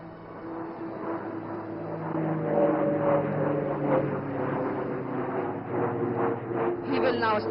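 A jet aircraft flies a loop maneuver during a flying display at the Aero India 2025 air show at Yelahanka Air Force Station, producing a continuous distant engine roar that swells and fades under steady commentary.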